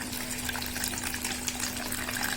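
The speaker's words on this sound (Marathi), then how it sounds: "दोन तीन वेळा स्वच्छ धुवून घेते तांदूळ" Running water splashes and gushes steadily as rice is rinsed two or three times at home before cooking a paneer pulao, continuous and close with a faint steady hum underneath and no talk.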